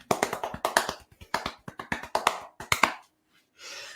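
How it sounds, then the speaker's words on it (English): A small group gives a round of applause, crisp, distinct claps from a few people in an uneven patter that stops abruptly, followed by a brief faint voice. "That was a round of applause"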